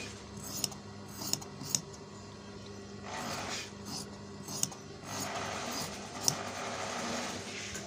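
Scissors cut out a fabric collar pattern with soft, intermittent snips and rustling, a few sharp clicks standing out over a steady low hum; no one speaks.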